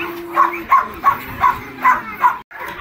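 A shepherd dog and puppies bark in a steady run of about six evenly spaced, loud barks outdoors, with a brief pause near the end.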